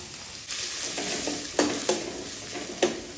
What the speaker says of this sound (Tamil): 2 பெரிய வெங்காயம் சின்ன சின்னதாக கட் பண்ணி வச்சுருக்கேன், அதையும் போட்டுறேன்.